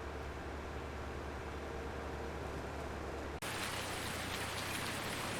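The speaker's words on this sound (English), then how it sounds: "And here comes the rain." Steady rain hisses across the farm in Farming Simulator 19, a dense wash of drops on surfaces that abruptly grows heavier and brighter partway through, continuous and alone without any talk.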